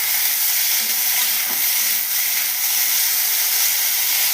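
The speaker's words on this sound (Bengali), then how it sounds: "তেলটা গরম হয়ে গেছে, এবারে কেটে রাখা আলুগুলো দিয়ে দিচ্ছি" Cut potatoes frying in hot oil in a home kitchen, a steady broadband sizzle with light stirring scrapes, close and continuous with no talk.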